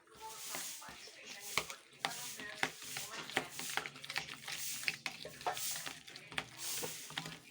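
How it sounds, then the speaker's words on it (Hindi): Two eggs are whisked in a bowl, giving quiet, irregular scraping and tapping strokes with a few sharper clicks against the bowl. The sounds are close and faint. "2 अंडे लेंगे। इनको अच्छे तरीके से मिक्स कर लेंगे।"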